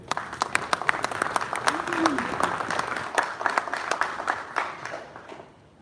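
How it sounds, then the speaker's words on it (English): Round of applause at a boxing press conference, sharp scattered claps from a modest crowd heard close, with a voice briefly rising over the clapping midway. "Big round of applause for Joe Markowski."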